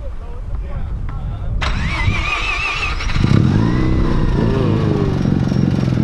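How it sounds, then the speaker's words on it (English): A Mazda RX7 FD rotary engine cranks and fires up close, settling into a loud, steady, buzzing idle with custom pulleys whining; voices talk faintly underneath. "But I love the sound of the rotary."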